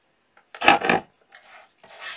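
Deckle trimmer blade slicing through journal paper in two quick rasping strokes close up, followed by two softer sliding scrapes.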